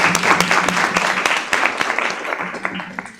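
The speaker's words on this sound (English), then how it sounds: "We end today's session on a big round of applause for Sir" Audience applause at the close of a session on a new vision for Saudi Arabia, a steady patter of clapping with sharper individual claps, moderately loud and continuous throughout with no talk.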